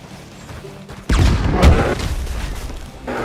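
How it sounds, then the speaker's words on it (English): A thrown stick of dynamite blasts near a bear in a hunting video game, a sudden loud boom followed by a rumbling decay and a second smaller burst. "he's gonna get the dynamite again"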